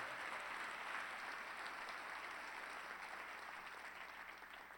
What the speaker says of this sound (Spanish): Vamos, ese aplauso al Señor, nuestro Padre Celestial